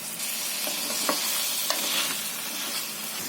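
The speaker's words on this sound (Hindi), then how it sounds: "3 से 4 मिनट अदरक लहसुन को भूनने के बाद में इसमें डालेंगे हम ये गोश्त और इसे भी थोड़ी देर भून लेंगे।" Meat frying and being stirred in a pan with ginger-garlic paste and green chillies for Muradabadi yakhni pulao, a steady close sizzle with occasional scraping stir clicks and no talking.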